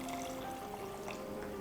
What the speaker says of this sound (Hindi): अब हम इसमें थोड़ा सा पानी डाल लेते हैं।